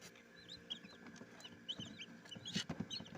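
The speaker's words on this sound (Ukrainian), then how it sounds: "Лізуть курчата." Many young chicks in an incubator peep in high, thin chirps close by, with soft rustling and shuffling beneath them.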